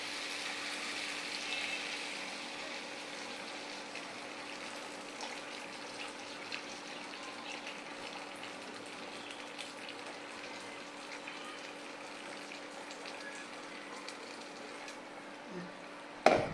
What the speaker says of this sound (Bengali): এতে গরম পানিটা দিয়ে দেবো।